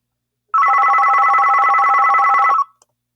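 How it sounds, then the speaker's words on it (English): A telephone rings indoors during a recorded lesson, a steady electronic ring tone sounding loudly and alone for about two seconds, then cutting off. "You'll have to excuse the phone here as I'm recording."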